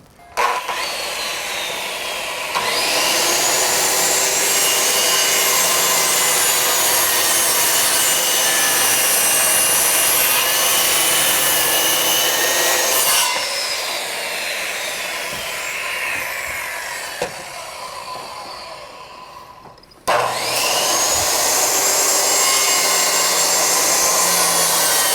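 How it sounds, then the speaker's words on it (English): A circular saw and then a jigsaw cut lumber for deck stairs. Each cut is a loud, sustained whining rip, and the motor's pitch sags as the blade bites into the wood. There are short pauses between cuts, and the cutting starts again after a brief gap. "So after I'm done cutting with the skill saw, I gotta come back with a jigsaw just to finish off the cuts"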